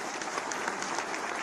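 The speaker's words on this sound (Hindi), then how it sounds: "सभी के लिए एक बार जोरदार तालियां।" Steady applause from a crowd at a government appointment-letter ceremony, many hands clapping together at an even level with no voices on top.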